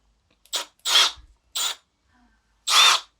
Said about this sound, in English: It's the familiar whine of the Milwaukee tools.